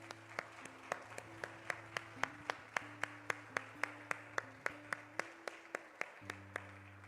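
Congregation in a church family service clapping hands in a steady, brisk rhythm, sharp evenly spaced claps over sustained keyboard-like tones, loud and close throughout.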